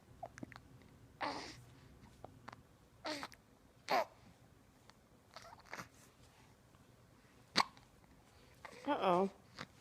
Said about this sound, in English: Oh no, he's got the hiccups.